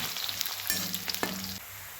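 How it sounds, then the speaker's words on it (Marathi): Chopped onions fry in oil in a pan for a homestyle chicken dish, a close, steady sizzle with a couple of brief scraping stirs. "कांदा चांगला भाजायला लागला बघा आपला चांगला कांदा भाजून घेऊया लाल होईपर्यंत कांदा जरा हलवून भाजूया चांगला"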